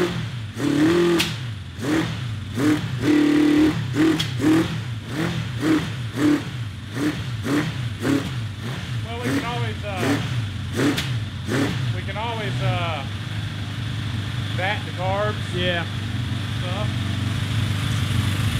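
Honda CB750 motorcycle engine running in a cross kart build, a steady close idle with repeated throttle blips rising and falling in pitch, and voices talking in between.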